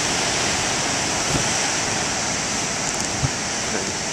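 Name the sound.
ocean waves breaking on a beach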